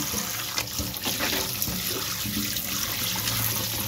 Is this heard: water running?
yes